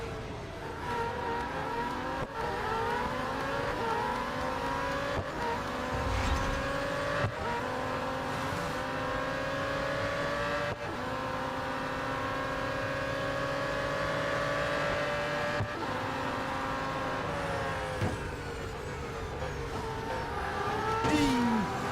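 A McLaren Solus GT race car engine roars in Real Racing 3 during an elimination event at Monza. It revs steadily and loudly, with rising and falling pitch through gear changes, and runs continuously for the whole stretch without speech.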